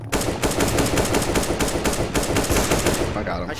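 Rapid automatic gunfire in the game CS:GO sounds as dense, loud repeated bursts of shots in a fast rhythm, close and continuous.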